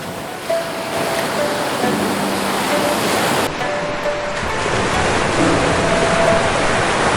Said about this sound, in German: Nicht mal eine halbe Stunde draußen und schon fängt an zu regnen